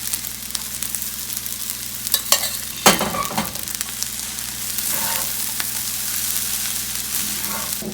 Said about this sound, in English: to this we are going to add the lentils